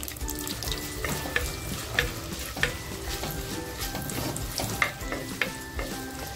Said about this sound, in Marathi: आता जो कांदा घेतलाय ना तो टाकते।